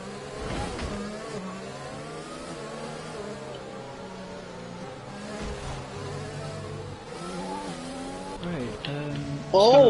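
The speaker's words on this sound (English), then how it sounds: "Fairboy Gaming has just crashed into the wall, and Avalanche has just sent his car airborne" Race cars whine and buzz through a racing video game on the Azerbaijan circuit, with engines revving steadily and a sharper burst near the end. A commentator talks over the engines throughout.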